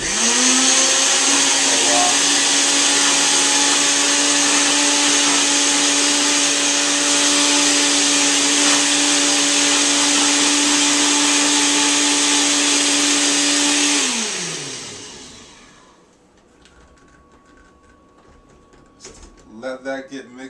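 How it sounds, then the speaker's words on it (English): A kitchen blender whirs loudly and steadily for about fourteen seconds blending fruit juice with water, then winds down, followed by quiet handling clatter. "Blender on, put it on, and"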